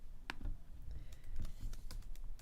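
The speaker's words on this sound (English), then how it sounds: "I'll type it in." Keys clatter on a computer keyboard in a quick, irregular burst of soft clicks, close but fairly quiet, with no talking.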